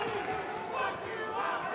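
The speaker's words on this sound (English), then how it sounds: "The crowd here in the Galen Center is certainly very colorful and fruity with their chants." Crowd chanting at a Call of Duty League 2022 Championship Weekend esports event in the Galen Center, a steady roar of many voices filling the arena, with chanting swells rising and falling throughout.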